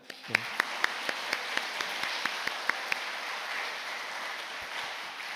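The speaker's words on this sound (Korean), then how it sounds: "박수하겠습니다." Congregation clapping in a church: a short, fairly faint burst of separate hand claps at a steady rhythm, with a hushed room murmur underneath.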